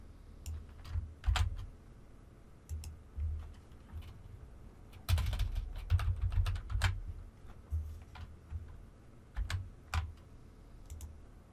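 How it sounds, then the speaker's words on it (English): Bursts of typing on a computer keyboard, quick irregular key clicks in short flurries separated by pauses, close and fairly quiet with no talking. "Now I'm going to go ahead and type out my caves."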